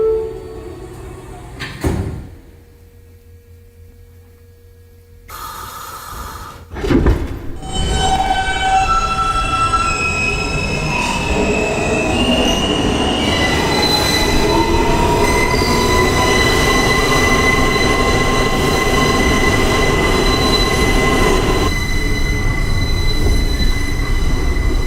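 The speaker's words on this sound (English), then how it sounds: "This is a Manhattan-bound F local train" A Manhattan-bound F local subway train rolls along, its wheels squealing with drawn-out high-pitched tones over a steady loud rumble. The run starts quieter with a short break before settling into continuous rail noise.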